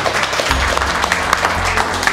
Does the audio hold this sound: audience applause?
yes